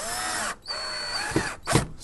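A power drill drives a screw into a 2x4 to mount a door latch clasp, a steady whirring motor broken by a short pause, then a couple of ratcheting bursts, close up and without talk.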